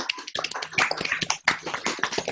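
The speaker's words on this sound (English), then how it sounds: "if you can all give Dawn another round of applause" Online meeting participants applaud together after being unmuted, a dense patter of many overlapping hand claps from different microphones, steady and fairly close for the whole stretch.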